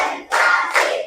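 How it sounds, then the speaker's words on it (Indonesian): Classroom of fifth-grade pupils doing a group clapping chant, with a loud burst of many hands clapping together in two quick waves, close and crowded. "Tepuk 4."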